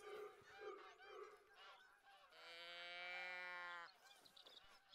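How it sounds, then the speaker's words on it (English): A flock of geese honks in the hunting video game theHunter: Call of the Wild, a busy chorus of nasal calls with one long sustained honk in the middle, faint overall. "that's geese"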